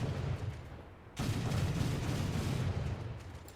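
40mm secondary guns on a warship in War Thunder fire in a dense, rumbling barrage of booming shots, loud and continuous with a short lull before the fire resumes.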